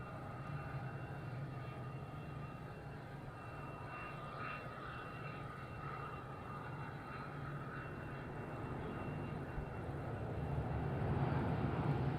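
An airplane lands at Madeira Island Airport, a steady, far-off engine roar and rumble that swells slightly toward the end.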